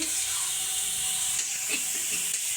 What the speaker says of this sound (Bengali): একদম মশলাটা কষিয়ে নিচ্ছি